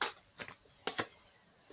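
Tarot cards being shuffled by hand for a reading, a few short crisp riffling bursts close to the microphone with quiet pauses between them.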